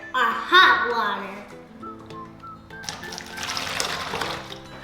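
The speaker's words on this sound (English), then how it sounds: "now we're gonna pour in our water. Our hot water." Hot water poured through a funnel into a plastic bottle for a kids' science experiment, a trickling, splashing pour that builds after someone talks over the start.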